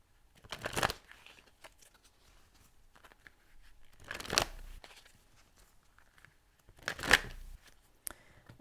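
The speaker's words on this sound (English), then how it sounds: "these two just fell right out as I was shuffling" A deck of energy oracle cards is shuffled in three quick riffling bursts, close and crisp, separated by quieter handling and brief pauses.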